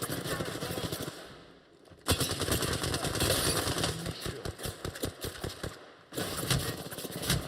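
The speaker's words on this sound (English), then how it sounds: "why is everybody shooting the Gibby?" Rapid bursts of gunfire from a video game, dense automatic fire in rapid clusters, loud and continuous with brief pauses, running alone without talk.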